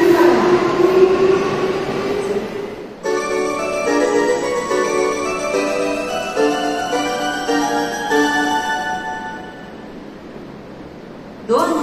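Inside Kotake-mukaihara subway station in Tokyo, an automated Japanese announcement for a Fukutoshin Line train plays over the hum of the train waiting at the platform, with a steady rumble underneath.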